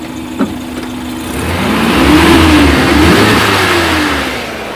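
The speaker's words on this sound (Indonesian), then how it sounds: "Kita gas-gas saja supaya lebih cepat." A Suzuki Carry Futura 1.5 fuel-injected engine revs up from idle during a tune-up, climbing into two rising sweeps of throttle before easing back down, close and steady with a brief knock near the start.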